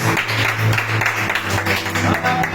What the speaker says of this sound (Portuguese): comece a bater palmas para o Senhor Jesus